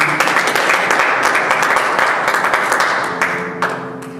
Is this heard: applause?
yes